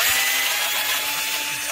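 A power drill bores through a pipe or fitting with a larger, next-size-up bit while a community garden irrigation system is being set up, giving a continuous, close, loud whirring grind that cuts off at the end.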